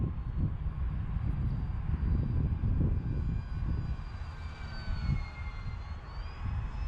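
Twin engines of a Beechcraft D-18 drone loudly and continuously in flight, a steady close-up roar from inside the aircraft with slight fluctuations and no speech over it.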